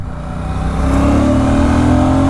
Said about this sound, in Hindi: स्टार्ट हो गई है, इंजन में वही रिफाइनमेंट देखने को मिलती है।